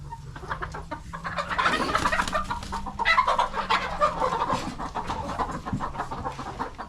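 Chickens cluck and chatter in a pen, among them a big lavender rooster and a fan-tailed bird, a busy overlapping flock sound close by with no talk.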